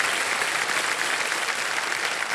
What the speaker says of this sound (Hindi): बहुत जोरदार ताली वाली बजी आप लोगों जी के जी लिए